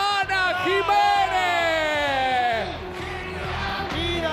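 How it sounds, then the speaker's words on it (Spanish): A studio audience at the Showmatch TV show cheers and shouts with steady crowd noise, while an amplified voice talks loudly over it throughout. "Fuerte el aplauso para la señora Susana"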